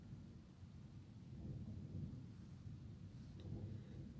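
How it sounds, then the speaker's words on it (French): A thunderstorm rumbles low and steady with heavy rain hissing throughout, faint and distant, with no one speaking. "on allait avoir une tempête, et ben on l'a"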